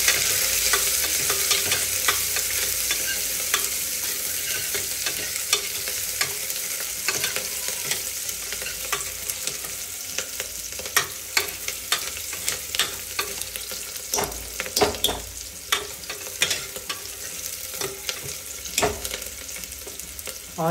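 Onions stirred and fried in a pan for chicken curry, a steady close sizzle broken by frequent scraping stirs and clicks of the spoon, growing busier and more percussive toward the end, with no talking.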